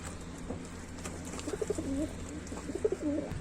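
Pigeons coo softly in a couple of low, throaty bursts while feeding, close by over a light background hiss.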